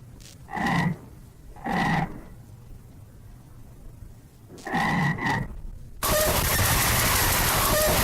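Frog croaking in short bursts: four harsh, resonant croaks in two pairs, moderately close, followed by a sudden wash of loud broadband noise.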